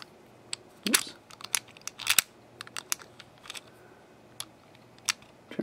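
Key sliding into and turning the levers of an Era 5-lever padlock, a series of sharp close metallic clicks and ticks scattered irregularly over quiet background.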